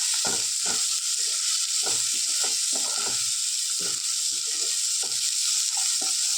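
Chopped onions and lengthwise-split green chillies sizzle steadily in a hot pan, a constant close frying hiss with repeated soft scraping taps from stirring throughout.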